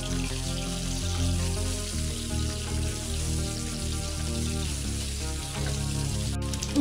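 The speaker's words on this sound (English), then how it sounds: "Once the oil is hot, then add egg. And start fry over medium flame until the egg turns golden brown." An egg frying over medium flame in hot oil in a kadai, a steady close crackle and sizzle that carries on unbroken beneath a faint background hum.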